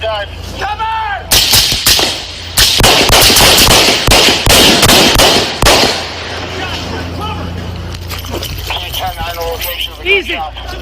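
Gunshots ring out in the woods during a deadly shooting: loud sharp cracks, several in quick clusters, then a rapid volley. Shouting voices and radio chatter come before and after the shots.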